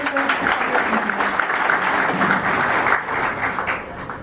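Audience clapping at a farewell ceremony for a state tax joint commissioner in Ranchi, sustained loud applause that dips briefly near the end and then carries on.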